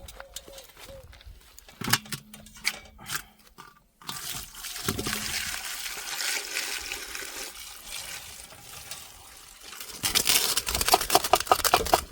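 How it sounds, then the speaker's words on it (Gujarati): Water splashes and sloshes as green herbs and spices are washed by hand in a village outdoor kitchen, with close, uneven bursts of running and trickling water and faint background voices. "આપણે આપણો લીલો મસાલો સારી રીતે ધોઈ નાખશું"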